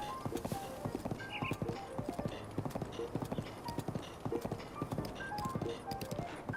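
Horse hooves clip-clop at a gallop in Breath of the Wild, a quick, even rhythm of many close hoofbeats along a path, with faint background sounds between strikes.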